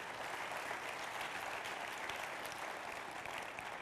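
An audience at an annual meeting applauds steadily throughout, a dense, even wash of clapping from a crowd in a hall.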